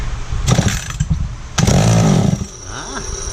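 McCulloch Pro Mac 55 chainsaw firing up at full throttle after pull-starting, with short bursts of engine noise and a brief rising rev, close and loud.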